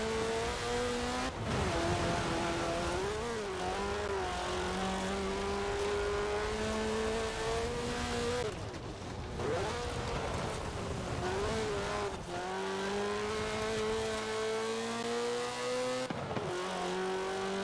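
Rally car engine in a racing video game climbing a hill, revving steadily with gear shifts and sharp throttle changes, loud and close, with occasional tire scrabble.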